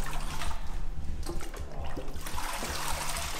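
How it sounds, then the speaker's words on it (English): Water trickles and splashes as it drains out of a papermaking screen full of pulp, a steady nearby dribble and patter running under a low background hum. "let the water run out"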